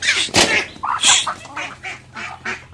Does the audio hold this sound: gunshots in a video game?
no